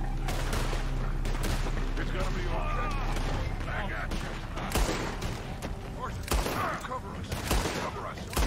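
Repeated gunfire in a Red Dead Redemption 2 shootout on Guarma, loud sharp shots in dense bursts over continuous game noise and rumble, with someone talking throughout.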